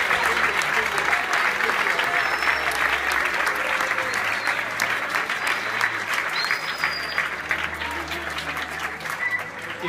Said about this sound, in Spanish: los demás le aplaudimos a los niños de infantil